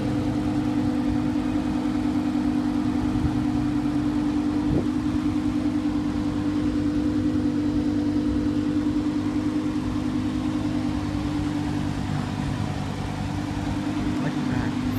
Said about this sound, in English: so it is a Huracan Spider